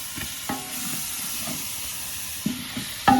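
Meat frying with Kashmiri chili at an outdoor picnic gives a steady close sizzle and hiss, broken by a few scraping stirs and clinks near the end.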